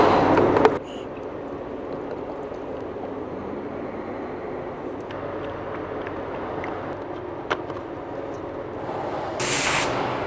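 Steady spray from a low-cost LVLP paint gun laying down 740 clear coat mixed 4 to 1, run off a small compressor; a continuous broadband hiss holds at moderate level, cutting in sharply at the start with a brief burst near the end.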